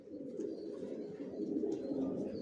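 Top-quality racing pigeons coo softly and continuously, a low, murmuring burble from several birds close by with no talk.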